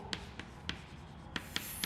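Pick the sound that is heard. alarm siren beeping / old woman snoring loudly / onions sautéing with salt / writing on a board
writing on a board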